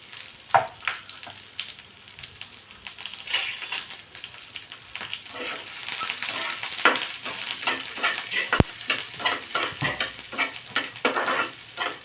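Sliced onion and a bay leaf fry in a pan with steady sizzling, broken by repeated scraping and stirring strokes and a few clinks of a utensil against the pan, close and moderately loud.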